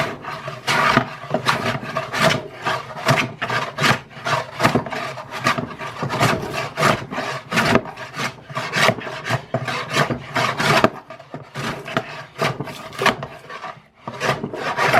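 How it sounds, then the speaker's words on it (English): Repeated rasping strokes of an Ohio Tool Co #306 hand plane taking fairly thick shavings off red oak, each pass a short, loud scraping burst in a steady rhythm close by, with no talking. "these aren't like super fine shavings and some of them are kind of thick. I got the blade cutting pretty heavy"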